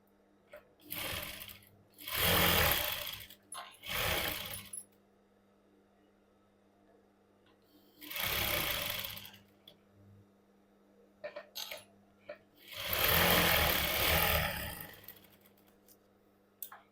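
A sewing machine running tacking stitches on a princess-cut blouse, several separate bursts of whirring stitching, close and fairly loud, with quiet pauses between them and a steady low hum underneath.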